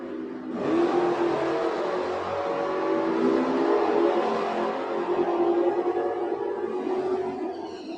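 Drag racing cars at a raceway accelerate hard down the strip in the Pro Class eliminations, a loud sustained roar that rises at launch and holds steady as the engines pull away, with no talking.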